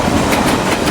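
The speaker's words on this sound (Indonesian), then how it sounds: "seketika tubuh Adi hancur lebur ditabrak rel kereta api yang tengah melintas" A train passing along the railway tracks, a loud, close, continuous rumble with rhythmic clacking of the cars, heard alone with no talk.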